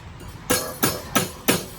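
Five sharp, ringing hammer blows bending a metal rod held in a bench vise, evenly spaced about a third of a second apart, loud and close.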